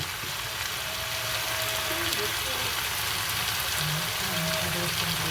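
Jackfruit with banana flower and shrimp fries in a pan, a dense continuous sizzle that stays loud and close throughout, with faint brief tonal bits underneath.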